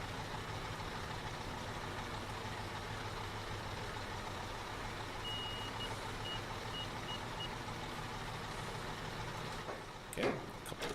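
A white truck in Construction Simulator 2015 reverses with its backup alarm beeping in a steady repeating pulse over a low engine idle, followed by a couple of brief louder knocks near the end.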